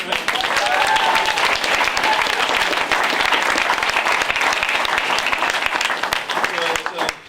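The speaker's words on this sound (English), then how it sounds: "how about a round of applause for everybody up here today?" Dense, sustained applause from a graduation audience at L'Envol in 2015, loud and continuous for several seconds before tapering slightly at the end, with some voices mixed in.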